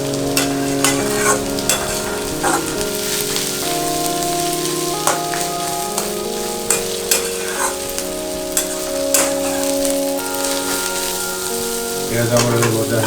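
Onions stirring and sizzling in hot oil in a pan on medium flame for chicken curry, a steady loud frying hiss with frequent spoon scrapes and clinks close by.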